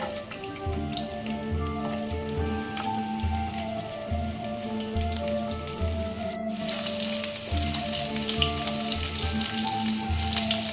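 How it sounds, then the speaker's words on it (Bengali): Garlic cloves dropped into hot oil already tempered with black cumin (kalo jeere) and whole dried chillies, for a Bengali ridge gourd (jhinge) bata, produce a steady close sizzle with crackling spits and a brief sharp burst partway through. "আমার গরম হয়ে গেছে, আমি রসুন দিচ্ছি।"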